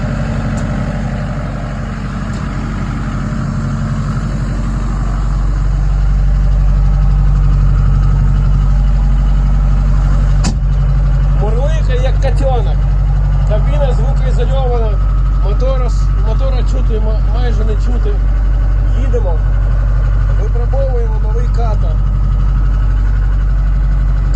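A KATAI 904 truck engine idles with a constant low rumble that stays steady throughout, heard close, while someone talks over it for much of the time.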